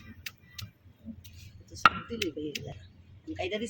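Onions being mashed and pounded by hand for chanda fish bharta, with sharp knocks and soft squashing scrapes at close range and low talk in the background.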